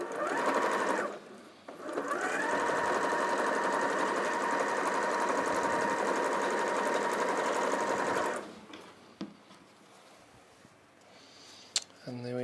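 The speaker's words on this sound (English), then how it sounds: "also making sure you're sewing in the right direction." A sewing machine stitches jelly roll quilt strips, running steadily as a loud, close mechanical whir for about eight seconds before stopping, followed by a few quiet handling clicks.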